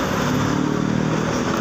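A PO Haryanto coach engine idles and pulls away as bus 042 departs, a steady loud mid-pitched drone with a faint pulsing throb, close by and continuous, with no talk over it.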